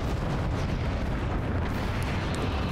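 Dense rumbling explosions and artillery fire fill the scene in the video game Forts, a continuous loud roar of blasts and impacts with no pauses.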